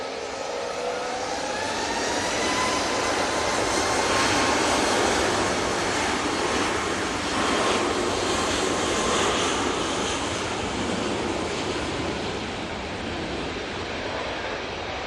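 Jet airliner at Manchester Airport departing for Venice, a loud sustained engine roar that swells and slowly fades as it passes, with no talking.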